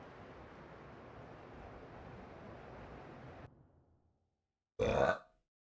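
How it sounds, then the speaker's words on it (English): A single short, loud burp comes after several seconds of steady rushing noise and a moment of silence. "Burp, burp."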